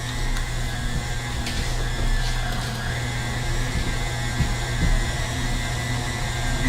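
An electric mixer with a whisk attachment runs on high in carrot cake cookie dough, a steady loud whirring hum that continues unbroken and alone throughout.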